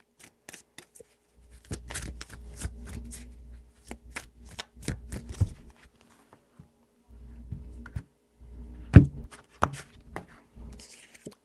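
A deck of tarot cards is handled close by, giving soft, intermittent taps, slides and light clicks rather than a full riffle. The sounds are quiet and scattered across several seconds with low thumps, and no one speaks.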